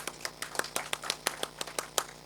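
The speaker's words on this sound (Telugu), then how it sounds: "చప్పట్లు కొట్టండి ఒకసారి." A classroom audience claps for a teacher at a history lecture, about a dozen distinct, fairly evenly spaced hand claps from a small group, moderately loud against a quiet room.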